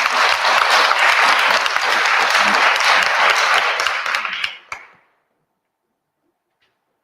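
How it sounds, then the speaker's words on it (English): A teachers' meetup audience claps loudly and densely for about five seconds, then the applause fades quickly into silence. "Everyone give a clap"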